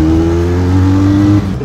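A Benelli Leoncino 500 motorcycle accelerates hard while overtaking, its engine giving a loud, steady, close-up drone that holds for over a second before cutting back slightly near the end.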